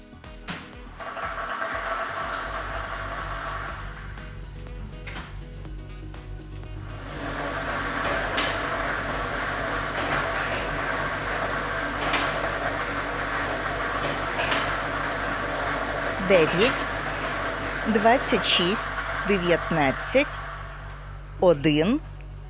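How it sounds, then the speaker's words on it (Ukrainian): A lototron, a lottery ball drawing machine, runs with a steady mechanical whir and scattered knocks and clatters of balls, under an announcer's voice. "І ми вмикаємо лототрон"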